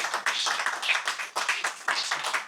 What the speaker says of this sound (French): ça mérite des applaudissements quand même.